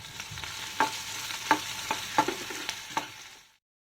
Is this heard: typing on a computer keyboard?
no